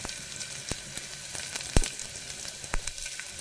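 Garlic frying in a pot for a one-pot rice dish, a faint steady sizzle with a few sharp pops and crackles, no talking.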